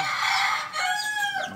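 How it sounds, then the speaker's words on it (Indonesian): A white Japanese bantam (kate) rooster crows once, a young bird still learning, giving a short, close, loud cock-a-doodle-doo with a rising then wavering call. "yang sedang kokok itu katek putih teman-teman"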